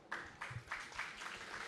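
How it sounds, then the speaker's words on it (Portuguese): Applause for Leonardo from the audience at a book fair debate, a faint spread of hand claps with a few sharper clap bursts over about two seconds. "eu queria pedir palmas aqui para o Leonardo."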